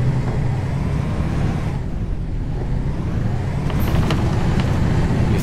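Bus driving in the simulation game OMSI 2, with a steady low engine rumble and road noise throughout and a few brief higher clanks near the end.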